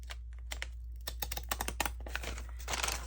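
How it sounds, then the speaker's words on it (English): Provocraft decorative scissors cut along the bottom edge of a paper page for a handmade journal, making a rapid series of crisp snips and clicks close by over a steady low hum. "I'm gonna just cut this bottom edge, see if I can cut it with these scissors."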